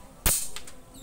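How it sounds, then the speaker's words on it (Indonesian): A single sharp air rifle shot firing a 13-grain slug on a windy outdoor range: one loud crack followed by a fainter report, with no talk over it. "tembakan ketujuh"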